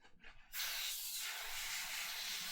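A spray bottle emptied of cleaner sprays only air, giving a steady loud hiss that starts abruptly after a few faint sounds and holds evenly to the end.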